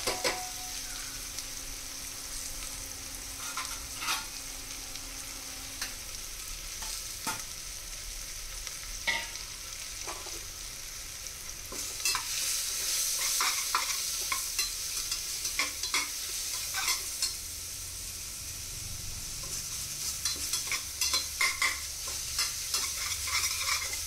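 Onions sautéing with spices in a pan, a soft steady sizzle under frequent spatula scrapes and taps, growing busier and louder about halfway through.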